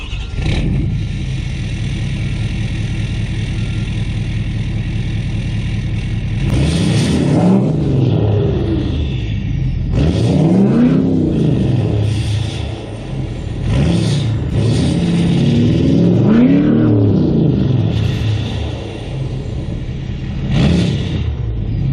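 A 2018 Ford 6.7 Powerstroke diesel pickup with a 5-inch straight-pipe exhaust and a 45-horsepower tune idles with a steady rumble, then revs loudly several times. Each deep, throaty rev rises and falls, and the truck settles back to idle between them.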